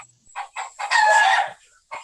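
A rooster crows nearby at an outdoor site, a few clucks leading into one loud, drawn-out cock-a-doodle-doo and then another short call.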